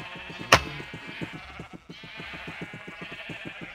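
A sheep in Minecraft bleats in a wavering, pulsing call that carries on steadily, a sharp knock sounding once near the start.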